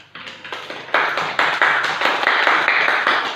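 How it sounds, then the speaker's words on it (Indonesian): Students in a classroom clap for a classmate who scored highest, a burst of close, uneven hand claps building to steady group applause with no talking. "bintangin lah tepuk tangan temannya"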